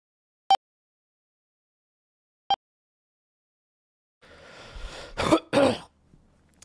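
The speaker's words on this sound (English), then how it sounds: "I gotta blow my nose" Two sharp clicks, then a person blows their nose during a livestream: a couple of loud, gusty, rough bursts lasting about two seconds, close to the microphone, followed by quiet.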